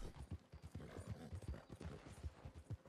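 Horse hooves clip-clop at a steady galloping rhythm in the video game Red Dead Online, the hoofbeats close and prominent over a continuous low rumble, with no talking.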